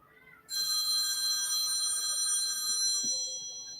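A telephone rings loudly and continuously with a bright electronic ringtone that starts abruptly and keeps going, close by in an otherwise quiet room.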